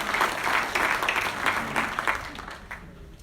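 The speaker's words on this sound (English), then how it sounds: "Let's give them a round of applause." Audience applause at a county tourism authority meeting, steady, moderately loud clapping from a room of attendees that gradually thins and fades out toward the end.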